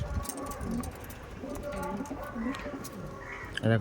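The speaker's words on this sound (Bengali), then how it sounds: "অনেক পায়রা এই বাড়িতে" Pigeons coo softly in the background at a home with many pigeons and chickens, while people talk over the low, repeated calls.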